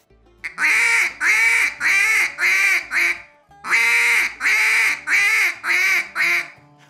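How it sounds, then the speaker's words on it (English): A duck call blown in a begging sequence, two runs of about five rapid, loud nasal quacks each, falling and tapering toward the end with a brief pause between the runs. "Another variation that we can throw in there is what we refer to as begging,"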